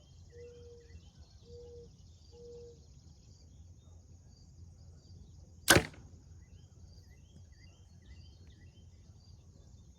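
A single sharp arrow from a Hoyt RX3 compound bow strikes a target, a loud crack standing out against quiet outdoor ambience with faint bird chirps earlier.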